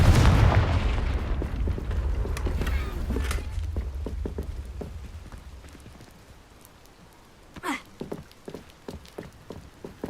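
A Confringo spell explosion in Hogwarts Legacy opens with a loud booming blast that slowly fades into crackling debris and rumble, followed by scattered lighter clatters and game effects.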